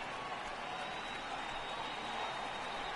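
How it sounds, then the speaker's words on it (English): Steady stadium crowd noise from MLB The Show 18 rumbles on as a restless baseball audience, a continuous mid-level murmur with scattered claps and no distinct voices. "This crowd is restless, folks, no doubt about it."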